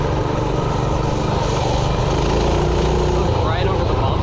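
A restored, upgraded Coleman B100 minibike's small engine runs during a test ride outdoors, a buzzy, steady drone close to the recorder, with a brief rising rev near the end.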